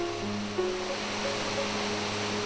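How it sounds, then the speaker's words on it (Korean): Water rushes through a narrow canyon and over a small waterfall in Albania, a steady, even roar of flowing water with no voices. "좁은 골짜기를 흐르는 물과 작은 폭포가 한 폭의 동양화처럼 편안하고 아름답다."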